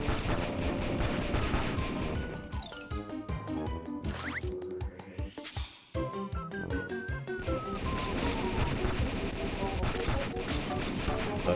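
Dense, continuous gunfire and impacts from the Wii game DeFenDin' Da Penguin, machine guns rattling steadily with crashes and game effects layered over busy music throughout.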